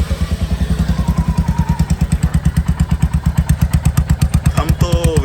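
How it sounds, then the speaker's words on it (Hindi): A Royal Enfield Hunter 350 motorcycle running without its exhaust pipe thumps out a loud, rapid, evenly pulsing beat up close, with a brief rising rev at the end. "अब जो है विदाउट एग्जॉस्ट भी वो साउंड सुन लेते हैं"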